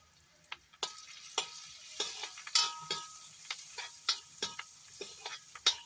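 Onions and dang bori fry in oil in a pan while a spoon stirs them, making sharp intermittent clicks and scrapes against the pan over a quiet, steady sizzle, with no voices.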